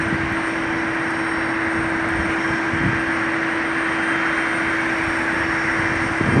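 C-17 Globemaster on short final into PDX airport, a steady, fairly loud jet engine roar with a constant whine holding throughout, no talk.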